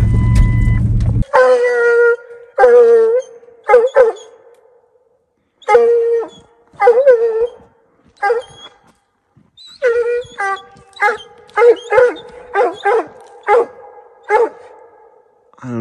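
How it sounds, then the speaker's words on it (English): Black and Tan coonhounds bay at a raccoon up a tree during a night coon hunt. Their long, drawn-out bawls and choppy barks repeat at a steady pace, loud and fairly close, with short silences in between. "My dogs are treed, I'm gonna get to them."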